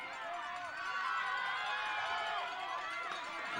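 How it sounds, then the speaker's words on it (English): Crowd cheering and shouting at the finish line of a girls' cross country race, a steady wash of voices held at a constant level through the moment. "The crowd's starting to get fired up here at the finish line"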